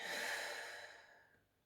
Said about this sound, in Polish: dwa głębokie oddechy. Wdech nosem, wydech ustami.